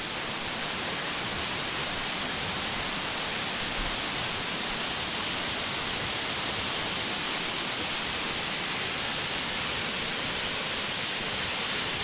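Bluff Falls in Burrowa Pine Mountain National Park pours heavily, making a steady, dense rushing roar of falling water that stays even throughout and is heard without any voices.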